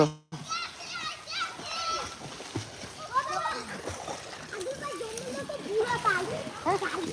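Children splash and duck under the water while bathing in a pond, with irregular sloshing and splatter throughout as kids shout and chatter nearby over the water sounds.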